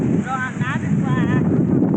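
Strong wind roars and buffets the microphone nonstop at a mountain campsite on Doi Samoe Dao where tents are pitched, a loud steady gusting rush with a voice briefly heard beneath it.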